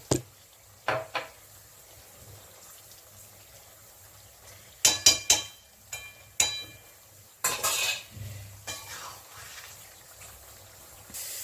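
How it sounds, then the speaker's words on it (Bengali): Ghee going into a pan for a vegetarian squash dish, followed by sharp metallic clinks and scrapes of a utensil against the pan in scattered bursts, with a soft sizzle between them, close up, no talking. "এখানে আমি ঘি দিয়ে দিচ্ছি।"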